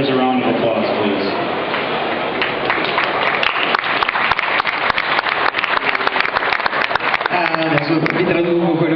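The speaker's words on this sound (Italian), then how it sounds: "give these exhibitors a round of applause, please" A crowd at a Holstein dairy cattle show ring applauds the exhibitors, with dense, steady clapping that swells and holds for several seconds before thinning, while a voice speaks over the start and end.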